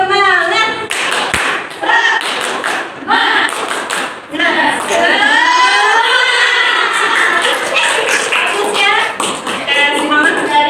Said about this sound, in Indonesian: yuk kita tepuk semangat ya